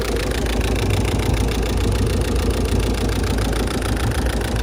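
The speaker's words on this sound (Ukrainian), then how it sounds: "Мотор працює рівно." A Peugeot 308 GT-Line engine idles smoothly and steadily, a constant low rumble with no talking, close by.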